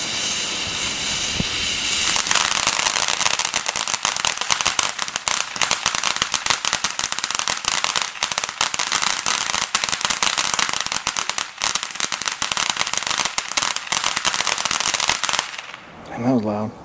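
Fireworks launched with a Firecrackersam CP12 remote firing system make a loud, continuous crackling barrage of rapid pops and hiss lasting many seconds before stopping abruptly, with people talking faintly underneath.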